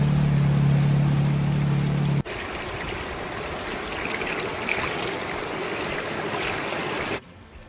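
Clear mountain creek water at the head of the Copper Lakes Trail near Sulfur Creek, Wyoming, flowing with a steady broadband rush that fills the scene for several seconds after a brief low hum cuts off.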